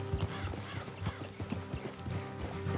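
Horse hooves clip-clop steadily along a trail in Red Dead Redemption 2, a close, rhythmic trot over a low ambient bed, with no talk in the clip.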